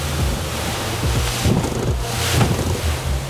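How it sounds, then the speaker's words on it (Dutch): Loud, continuous rush of water and wind buffeting, with repeated heavy surges as a Honda-powered boat rides over steep waves. "Best wel steile golven, hè?"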